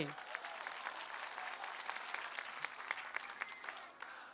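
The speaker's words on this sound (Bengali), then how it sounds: "আমি সকলের জন্য একটা প্রথমে জোরে করতালি চাই আপনাদের কাছ থেকে" Applause from a crowd at a political rally in Bangladesh, a steady wash of many hands clapping with some sharper individual claps, heard at moderate distance and fairly quiet.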